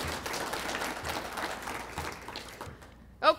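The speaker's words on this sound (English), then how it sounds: "why don't you give him a round of applause?" Audience applause at a public talk by the Cook County Recorder of Deeds, a steady, fairly faint patter of many hands that fades out at the end.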